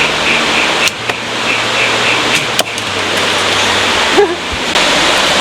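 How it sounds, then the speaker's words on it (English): Datanla waterfall in Da Lat, Vietnam: a steady, broad rushing roar of falling water fills the whole stretch, with a low hum and a few brief knocks and footsteps on top, and no one speaking. "We're walking down to the waterfalls at Datanla."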